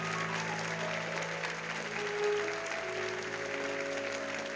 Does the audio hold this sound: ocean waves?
no